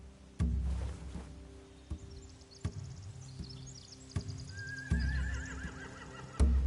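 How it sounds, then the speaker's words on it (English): Horses neigh and whinny in a Walking Dead video game scene, with repeated thumping knocks and clip-clop hoofbeats, a rising whinny cry near the end, and faint game tones drifting over a low ambient hum. "They have horses."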